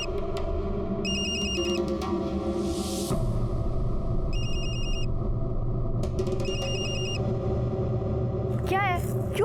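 A telephone rings in short repeated electronic bursts, three spaced ring patterns over a busy low rumble of background noise, fairly loud and close, ending with a brief rising chirp.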